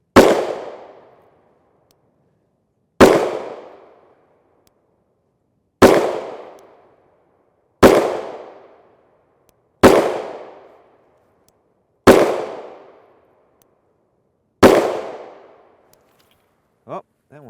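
Seven loud, sharp gunshots from a Rock Island Armory 10mm Auto pistol with a 5-inch barrel firing Magtech 180-grain FMJ rounds, spaced about two to three seconds apart, each with a short decaying echo, then a brief voice at the end.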